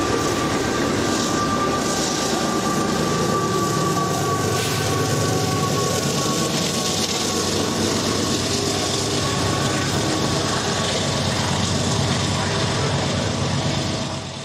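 Freight train rolling past at Rochelle with AC-44 locomotive number 5869 at the rear, a steady loud rumble and wheel clatter over rails, continuous and near throughout, with faint talk underneath.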